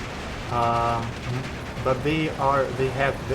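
Automatic gunfire from Dushka machine guns and tanks in the World War II strategy game Steel Division 2, short rattling bursts mixed with mechanical game effects and clatter.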